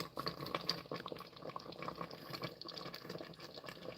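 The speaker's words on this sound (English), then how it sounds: "Add a little water" Water is poured into a pot of beef stew, making a continuous bubbling, splashing fill sound at moderate volume.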